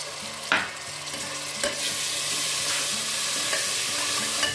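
Chopped tomato hitting hot oil with fried ginger, garlic and onion in a frying pan for prawn biryani, a loud continuous sizzle broken by several sharp scraping stirs of a spatula, with no talking.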